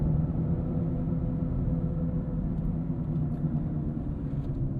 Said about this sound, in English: I don't know if it's a tire noise, if it's a wheel bearing noise or what